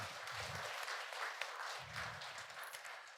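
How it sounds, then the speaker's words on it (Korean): A quiet, somewhat distant ripple of applause rises from the audience at a Korean Buddhist memorial academic conference, soft clapping spread through a hall over a few seconds, with faint low murmuring underneath. "큰 박수 부탁드리겠습니다"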